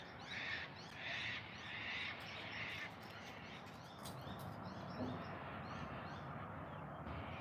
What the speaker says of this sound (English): Yep, cranky cockatoo here.